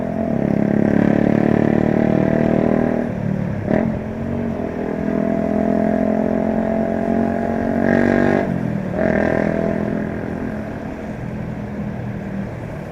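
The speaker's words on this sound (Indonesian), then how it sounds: "ini bawa anak ugal-ugalan naik motornya." Motorcycle engines drone steadily on a road during Lebaran, loud and close, with a couple of brief passing surges and rising whines over continuous traffic noise.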